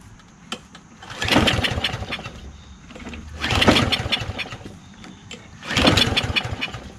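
A Poulan push lawn mower with a Kohler XT675 engine is pull-started three times. Each rope pull gives a brief, rough sputtering burst that dies away without catching, recorded close and moderately loud with no talking.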